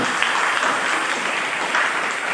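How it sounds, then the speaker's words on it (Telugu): A church congregation applauds during a sermon, a steady even wash of many hands clapping together, moderately loud and sustained without talk. "అందరూ చప్పట్లు కొట్టుకుంటున్నారు."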